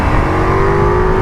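A Royal Enfield Himalayan 450 motorcycle engine hums loudly and steadily while being ridden, a close, sustained tone with a faintly rising pitch and no voices.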